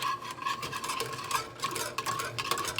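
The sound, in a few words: whisking cream soup mix in a pot on the stove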